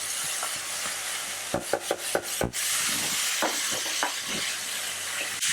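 Beef fillets sear in butter in a hot pan with an even, bright sizzle, punctuated by a quick burst of utensil scrapes and knocks as the meat is turned.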